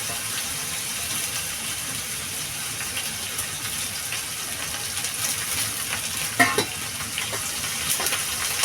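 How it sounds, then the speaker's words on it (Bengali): Moong dal goes into hot oil with ginger paste for a mixed-vegetable ghet, giving a steady, even sizzle with soft stirring scrapes and one brief clatter of utensils near the end. "এই মুগ ডালটা তেলের উপরেই দিয়ে দেবো"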